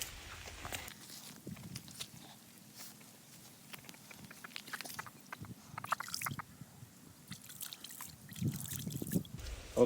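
Water trickles and splashes intermittently while chicken legs are washed by hand, with quiet patters, drips and wet squishing handling sounds, close and faint in a calm outdoor village setting.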